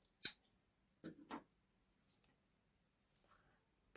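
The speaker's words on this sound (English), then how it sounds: "We're going to snip our yarn" Scissors snip yarn during a crochet granny square colour change: a few faint, quick cutting clicks close by in a very quiet room, with small handling sounds after them.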